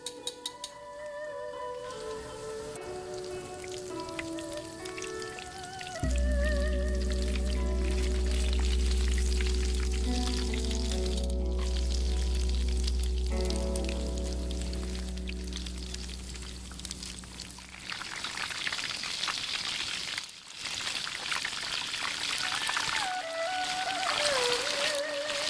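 Shrimp egg rolls with glass noodles and napa cabbage fry steadily in hot oil, giving a continuous bubbling sizzle close by while the rolls are turned now and then.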